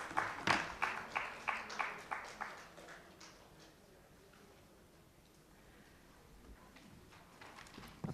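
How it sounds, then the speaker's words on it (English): An audience claps in a short round of applause for the people on the dais at a land corridors conference session, about two seconds of clapping, then fading into room quiet. "So just a round of applause for everybody on the dais."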